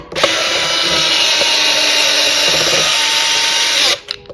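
A power drill drives screws into a 3D-printed top cover on a removable turbine unit, giving a steady, loud, high motor whine for about four seconds before it cuts off.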